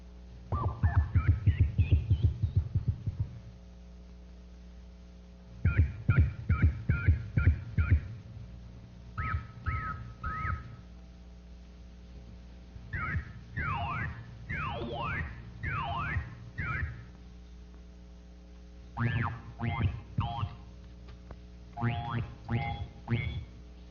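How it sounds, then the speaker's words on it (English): Synthetic Haskins Laboratories pattern-playback tones generated from painted geometrical shapes: a series of buzzy, voice-like bursts with rising, falling and diamond-shaped pitch sweeps, played in separate short groups with pauses between. "Here are some groups of geometrical shapes and the playback sounds that correspond to them."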